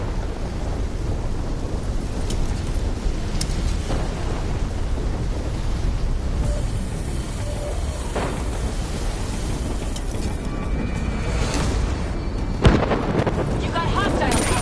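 Thunderstorm in Black Ops 3: a continuous roar of heavy rain and wind with rolling rumbles and a sharp thunder crack near the end, loud and dense throughout.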